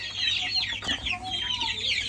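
Several foreign-breed chickens cluck and squawk continuously nearby on a poultry farm on a rainy day, a busy overlapping chorus of hens.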